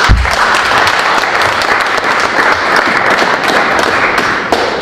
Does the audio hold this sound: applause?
yes